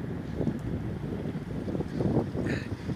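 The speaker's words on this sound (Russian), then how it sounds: "В кадре сейчас может идти ветер." Gusty wind at a railway station in Penza, buffeting the microphone in uneven low rumbling surges that rise and fall over a few seconds, with faint background noise and no clear speech.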